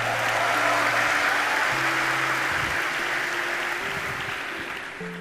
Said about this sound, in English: Let's clap it up for Alexander